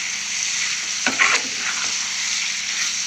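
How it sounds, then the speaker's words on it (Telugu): Prawns frying in a pan with steady sizzling hiss, broken by a short burst of stirring scrapes midway, close and without talk. "ఇంకా ఇలాగే ఫ్రై చేసేసుకోవాలి"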